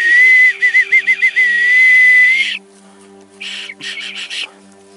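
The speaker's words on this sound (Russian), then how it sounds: "но звук свист она издает" A loud, shrill whistle blown close by, first held long with a fluttering trill, then a couple of shorter blasts after a pause.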